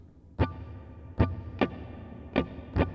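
Acoustic guitar strummed in a down, down, up, down pattern, with five distinct strums spread unevenly over a few seconds, close and moderately loud with a low hum underneath and no speech.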